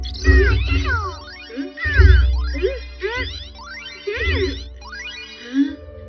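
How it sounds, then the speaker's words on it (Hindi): A cartoon cat meows repeatedly, several drawn-out, wavering cries in a row with short pauses, close and fairly loud over a low hum. "ये तो सुनियो की बिल्ली चीरू चीरू है ना।"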